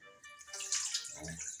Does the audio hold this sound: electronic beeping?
no